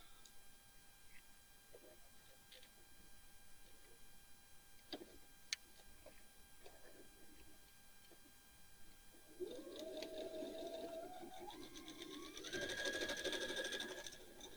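Sewing machine stitching a quilt block seam, a quiet handling stretch followed by a near, steady whirring run of stitching that rises in speed and pitch toward the end.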